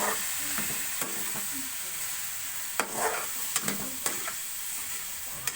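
Bitter gourd and eggplant sautéing in a pan, stirred with a steady background sizzle broken by sharp scraping and clinking strokes from the utensil, close and fairly loud, with no talking.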